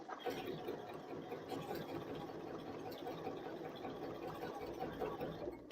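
A sewing machine quilting fabric whirs steadily and continuously at moderate loudness, its mechanical hum unbroken for several seconds.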